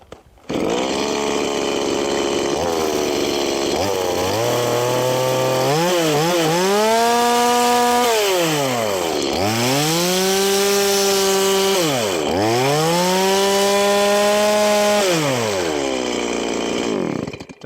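A power saw cutting wood for a traditional Korean woodblock floor, loud and close, running continuously with the motor pitch rising and dipping repeatedly as it bites into the timber.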